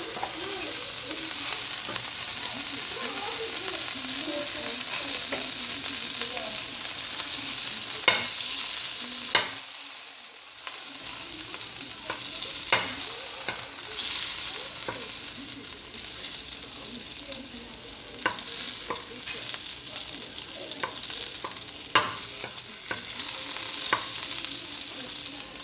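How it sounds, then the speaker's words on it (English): A small piece of butter melts in a hot pan, giving a steady soft sizzle and hiss broken by a few light clicks of utensils, with occasional quiet speech in the background. "Cut a small piece and just put it into the pan and allow it to melt."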